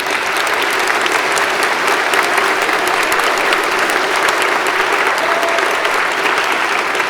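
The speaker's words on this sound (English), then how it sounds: "A round of applause for this group." A crowd at a high school senior awards ceremony applauds a group of award recipients with steady, dense clapping that stays loud and even throughout.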